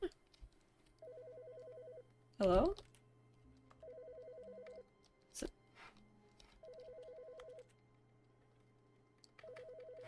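Telephone ringing in The Stanley Parable: Ultra Deluxe, repeated bursts of a steady electronic ring at regular intervals over a low background hum, with a voice talking briefly between rings.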